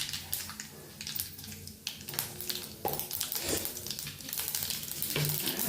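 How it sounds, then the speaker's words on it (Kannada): Mustard seeds dropped into hot oil, frying for a vegetable rice dish, give a dense, steady sizzle with scattered crackles and pops, close and continuous throughout, with no talking. "ಎಣ್ಣೆ ಕಾದಿದ ತಕ್ಷಣ ಸಾಸಿವೆ ಹಾಕ್ತಾಯಿದ್ದೀನಿ."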